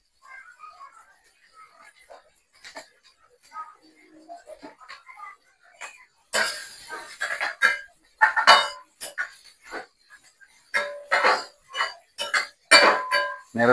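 Finely chopped cabbage and mixed vegetables tipped into a hot pan of reddened masala for Maggi chicken soup, then stirred, giving a sudden burst of sizzling with scraping and clinking of the spoon against the pan, after quiet movement at first.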